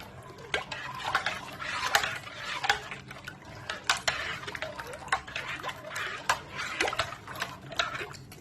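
A spoon stirring lemonade sharbat with sugar in a glass, a steady stream of close, bright clinks and scrapes against the glass with a faint swirl of liquid.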